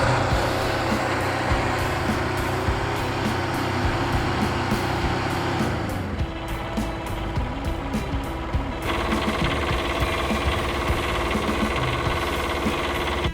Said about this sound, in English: It is powered by a 2-cylinder Kubota diesel, and it only consumes about half a gallon of fuel per hour at full load